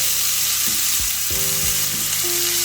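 Food for a one-pot taco spaghetti browns in a pan, crackling with a loud, continuous sizzle, along with a few low knocks and a faint steady hum, and no voices.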